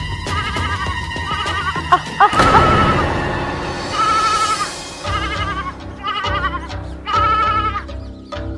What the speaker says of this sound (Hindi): भेड़ें चरा रही हूँ।